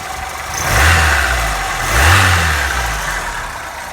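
An old carburetted car engine with a manual choke idles roughly, then revs up twice in slow swells before settling back, loud and close with no talking.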